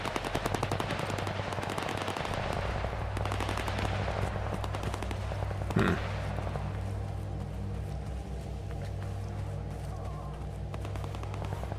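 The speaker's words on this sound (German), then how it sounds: "Hier fallen Schüsse." Rapid bursts of gunfire in S.T.A.L.K.E.R. 2: Heart of Chornobyl rattle continuously, with one louder crack standing out midway; the shooting stays dense and steady throughout.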